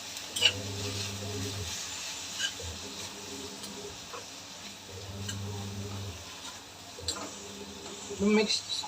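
Ginger garlic paste being stirred and sautéed in a pan for kothu chapathi: soft scraping and ticking of a spoon with a faint sizzle, heard under a steady low hum and occasional talk.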